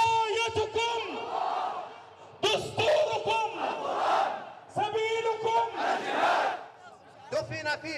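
A large crowd at a city rally honouring an imam, a Sunni gathering dressed in green, roars in loud rhythmic chanted bursts separated by short pauses.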